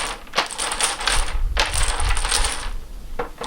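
Domino tiles being shuffled by hand on a table, a dense clattering rattle of hard pieces knocking and sliding together in continuous bursts, close and fairly loud, with no talking.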